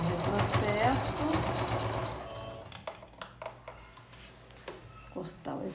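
A domestic sewing machine backstitching patchwork appliqué fabric for a kitchen set, running in a steady hum, then switching to a series of short stitching bursts and clicks.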